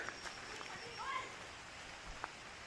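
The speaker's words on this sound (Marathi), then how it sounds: "पावसाला सुरुवात झाली" Light rain beginning to fall over green countryside, a faint, even patter of drops with a few brief sharper taps and quiet background sounds.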